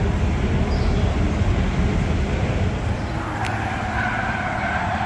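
Continuous roar of Dodge car engines revving in a parking lot, with tires skidding across pavement, loud and sustained, a higher squeal rising near the end.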